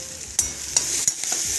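Garlic, coriander, green chili and cumin paste sautéing in a pan for spicy kat vada, a steady soft sizzle broken by a few sharp stirring scrapes, close and alone with no talking.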